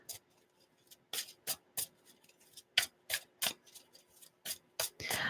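Tarot cards being shuffled by hand in a series of crisp, separate riffling bursts, close and clear against near silence, roughly a dozen sharp strokes in a quick uneven rhythm.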